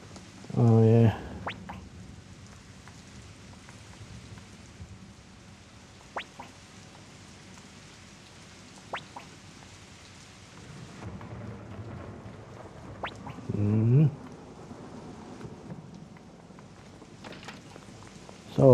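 Storm ambience in the video game Suikoden: a continuous hiss of rain with scattered sharp crackles and low rumbles, interrupted by a couple of short in-game voice cries.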